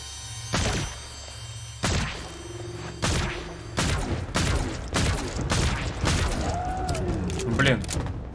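Gunshots from the video game Zombotron ring out as a few sharp, loud, separate bursts, followed by a run of rapid impacts and thuds, with someone talking throughout.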